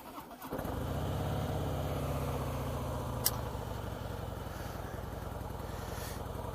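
A Harley-Davidson Breakout motorcycle with the 103B engine cranks over and settles into a steady, loud idle that runs continuously close by, with a brief sharp click partway through.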